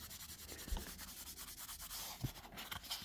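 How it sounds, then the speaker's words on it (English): Fine-grit pad sanding and polishing the bare metal of a '71 Plymouth Hemi 'Cuda or '69 Dodge toy car body, a faint close rhythmic rubbing scrape with a few light taps, no talk. "we're pretty much just polishing the bare metal at this point."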